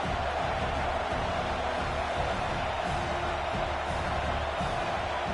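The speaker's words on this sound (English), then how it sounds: "This crowd trying to do its part to get inside the kicker's head." Stadium crowd noise in College Football 26 during a fourth-down field goal attempt, a dense, steady roar of many voices filling the whole clip with no clear peaks or speech.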